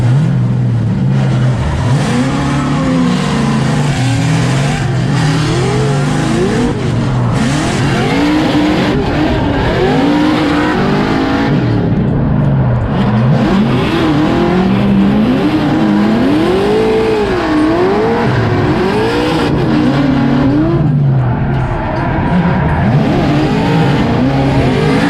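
A Formula Drift car at the 2022 St. Louis round screams through qualifying laps, its engine revving hard and continuously with rising and falling pitch sweeps, loud and close, with tire squeal woven in.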